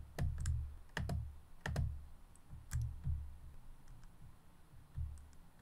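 Mouse clicks come at an irregular pace while faces are selected in FreeCAD, with about a dozen sharp close ticks, some doubled, over quiet room tone.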